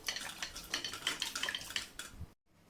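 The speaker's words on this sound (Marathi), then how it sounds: "आता ही डाळ आपण छान घोटून घ्यायची आहे" A utensil scrapes and knocks repeatedly against a metal pot in quick, uneven strokes while mashing cooked lentils, then stops abruptly.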